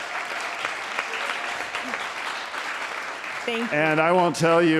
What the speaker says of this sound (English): Let's give a big hand clap to Nicole.